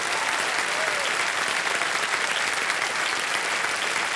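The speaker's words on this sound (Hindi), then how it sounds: "तालियां बज जाएं इनके लिए" Studio audience on a televised quiz show applauds steadily and loudly for a contestant, a dense unbroken wash of clapping throughout.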